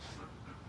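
A Belgian Malinois pants and whimpers in a brief, close, continuous burst with no talk over it.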